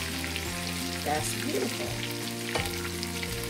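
Vegan food fries in a pan with a continuous crackling sizzle, set against sustained music-like tones and a brief spoken remark.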